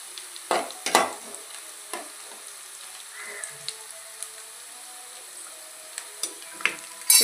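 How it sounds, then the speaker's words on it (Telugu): Brinjal and onions frying in oil with curry leaves, a quiet steady sizzle broken by a few sharp stirring clacks and scrapes of the spoon, no voices. "ఇప్పుడు కొంచెం వేగిన తర్వాత వంకాయలు ఉల్లిపాయ కొంచెం వేగనివ్వాలి."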